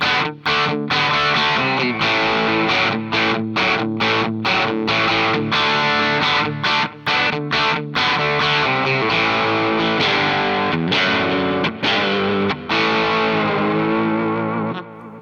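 An electric guitar played through a Bogner Goldfinger 45 amp on its loud 69 setting rings out loud and continuous with crunchy, moderate distortion and repeated strummed chords, alone with no talking.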